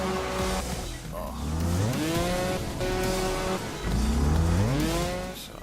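Motorbike engine in the Trials Fusion video game revving hard in repeated rising and falling sweeps, loud and close, with strained high-pitched whines between throttle bursts and no talk over it.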